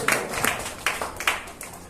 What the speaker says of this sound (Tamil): பேசி பத்தி மாஸ்டர் ஒரு கைதட்டு கொடுங்க